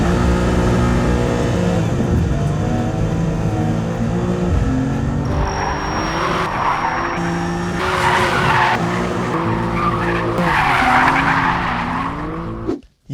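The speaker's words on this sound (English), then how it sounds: "on a track in a big fat third gear slide is still excellent." A BMW M2 held in a big third-gear slide on a track, tires squealing in long wavering tones over a loud, steady engine drone, with the pitch shifting as the slide goes on and cutting off abruptly at the end.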